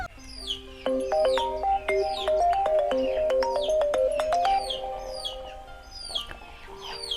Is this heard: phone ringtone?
yes